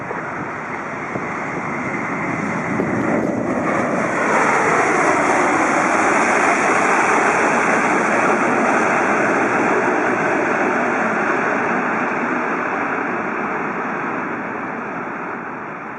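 Boeing 777-300ER airliner in flight, a loud broad steady roar of engines and airflow that swells in after a couple of seconds and holds, fading slightly at the end, with no talking.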